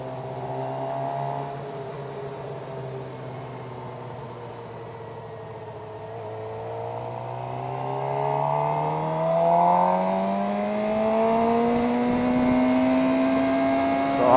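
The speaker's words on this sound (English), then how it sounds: "I'm going to show you how loud this bike is going to get" A motorcycle engine climbs in first gear, a steady drone rising gradually in pitch as revs build, moderately loud and continuous with layered harmonic whine and no talking.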